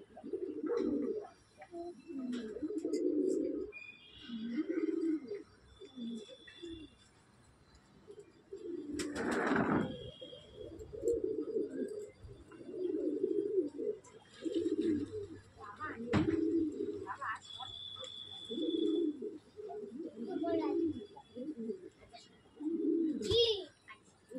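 White lakka pigeons in a loft coo repeatedly in soft, low, rolling phrases throughout, with brief chirps and a faint voice now and then.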